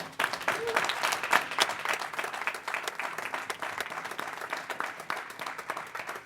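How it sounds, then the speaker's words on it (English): Audience applause at a general session, many people clapping in a lively, crackling stream of distinct hand claps that stays steady and fairly close for several seconds. "Give them a round of applause, everybody."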